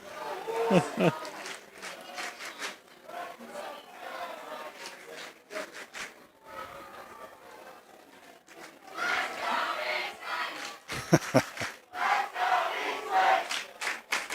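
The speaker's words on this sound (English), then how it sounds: "Skyline's finally got some cheering up here." Spectators cheering and yelling in the stands at a state championship lacrosse game between Skyline and Eastlake, rising in bursts and swells, with a commentator's voice talking over the crowd.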